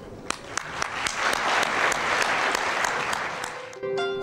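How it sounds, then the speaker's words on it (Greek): A large crowd applauds steadily, dense clapping filling the room, with a few sharp louder claps standing out, ending abruptly as a tone sounds. "σας αξίζει ένα μεγάλο χειροκρότημα."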